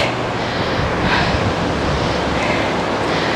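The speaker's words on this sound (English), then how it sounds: "Let me know if the fan is a little bit too much for you guys." Steady broadband whoosh of an electric fan blowing continuously, close and fairly loud, with no other sounds over it.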